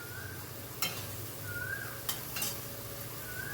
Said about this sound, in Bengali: দিয়ে সব কিছু আবারও ভালো করে মিশিয়ে নেব।